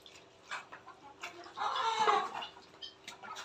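Hens in a garden flock cluck in short, uneven bursts close by, building to a denser stretch of clucking midway before easing back to scattered notes, with no one speaking.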